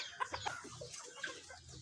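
Pet chickens cluck softly at close range, a few brief faint clucks over a quiet farmyard background.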